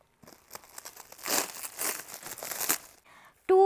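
Plastic wrapping crinkles and tears as a neatly packed parcel of home decor items is unwrapped, a burst of crumpling that builds and then stops before a brief bright tone at the end.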